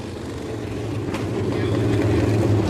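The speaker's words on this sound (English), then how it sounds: "Just to watch and listen to these cars, Greg." 360 sprint race cars at a Merrittville race meeting roar steadily around the track, a loud, dense engine drone that builds slightly over a few seconds, with crowd or commentary ambience mixed underneath.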